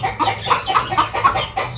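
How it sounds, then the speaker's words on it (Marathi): A hen guarding her single chick clucks aggressively in quick, loud, close bursts, a rapid run of agitated calls with no pause. "ही कोंबडी खूपच ॲग्रेसिव्ह झाली आहे"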